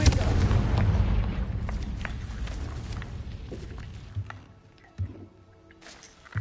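Confringo fire spell explosion in the video game Hogwarts Legacy, a deep rumbling boom that decays over several seconds, followed by a few softer thuds.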